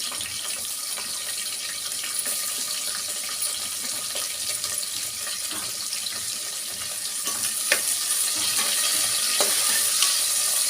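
Sliced onions fry in oil in a pan, giving a steady, close hiss and crackle that runs throughout, growing slightly louder toward the end with a few sharper pops.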